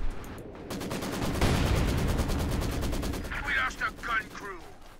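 Gunfire from a World War II strategy game match in which an artillery barrage crashes in amid rattling machine-gun bursts, forming a dense, loud, continuous battle roar with rapid repeated shots.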